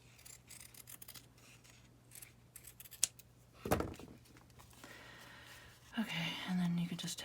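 Scissors snip a clothes tag with a few quiet crisp cuts. They are mixed with soft paper rustling and rubbing at close range, with a sharper tearing rasp near the end.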